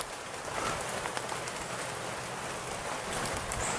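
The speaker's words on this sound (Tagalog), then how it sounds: "Napakalakas ng ulan mga idol." Heavy rain falls outdoors as a dense, steady, loud hiss that continues without a break and covers everything else.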